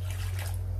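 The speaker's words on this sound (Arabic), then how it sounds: "ندير كاس ديال الماء" A glass of water pours into a batter mixture of eggs, sugar and oil, a steady close liquid rush lasting under a second with a low hum beneath.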